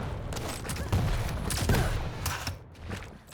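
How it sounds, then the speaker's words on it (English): Rapid gunfire crackles from a machine gun in the arena shooter Quake Champions during a competitive 1v1 semifinal duel, dense bursts of shots blending with other weapon and game noise throughout. "that's a very good machine gun"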